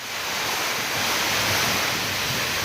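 Strong wind roars through a Kalboishakhi rainstorm as a loud, continuous, broadband rush with a rain-like hiss, steady and close, with no voices.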